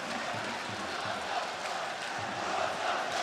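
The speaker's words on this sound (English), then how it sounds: "listen to the crowd here. Most of those voices are Croat, and they're calling for goals" Packed handball arena at the Men's EHF EURO 2010 final, Croatia against France, with mostly Croatian fans chanting for goals in a steady dense roar that fills the hall continuously.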